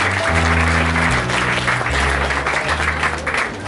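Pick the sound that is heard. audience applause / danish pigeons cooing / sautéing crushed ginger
audience applause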